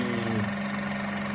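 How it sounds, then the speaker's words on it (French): A small electric water flosser motor hums steadily and close by, a constant buzzing drone with no speech. "Après on peut entendre le moteur"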